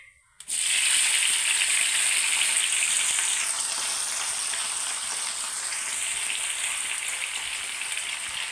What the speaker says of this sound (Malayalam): നമുക്ക് ഇതിനകത്ത് ഇടാം. അതിന് മുമ്പ് നമുക്ക് ഇച്ചിരി കറിവേപ്പിലയും കൂടെ ഇടാം.